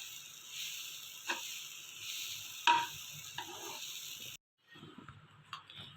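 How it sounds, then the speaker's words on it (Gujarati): Sev khamani mixture sautéing in a pan on a gas stove, a soft continuous sizzle with intermittent scraping stirs of a spoon, fairly quiet, dropping out briefly before resuming faintly. "અને આવી રીતના 5 મિનિટ સુધી સાંતળવાની છે ગેસ ઉપર"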